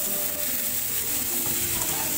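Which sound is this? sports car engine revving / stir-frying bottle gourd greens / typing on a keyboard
stir-frying bottle gourd greens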